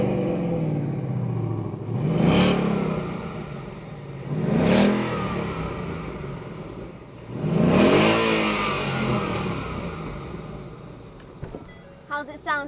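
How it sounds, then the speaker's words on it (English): Engine of a 2017 Ford Mustang GT revving hard three times, each rise sweeping up then falling back to idle, heard from inside the car with a short clatter at the end. "Give it a little rev"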